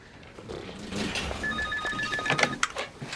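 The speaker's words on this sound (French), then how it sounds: "Ah, téléphone." A telephone rings in a police office with a repeated electronic trill that comes up over background room noise and movement, fairly close and clear.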